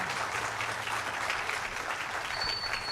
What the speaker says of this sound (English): let's give our choir a big round of applause